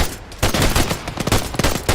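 Close, loud submachine-gun fire in an ARMA combat game, rapid bursts of shots repeating across the moment with a brief quieter gap near the start, no talking.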